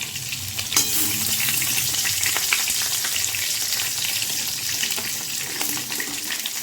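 Cauliflower florets frying in oil in a pan for a home-style paneer and cauliflower dish, a steady close hiss and crackle of sizzling with occasional light scraping, no voices.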